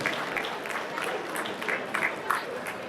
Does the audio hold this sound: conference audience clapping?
yes